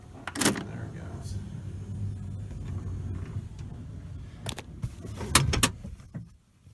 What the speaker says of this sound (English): See it, the motor is trying to operate.